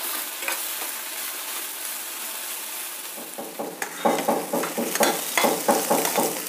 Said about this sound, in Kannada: ಇದನ್ನೀಗ ಸಣ್ಣ ಫ್ಲೇಮಲ್ಲಿ ಸ್ವಲ್ಪ ಹೊತ್ತು ಬಾಡಿಸೋಣ.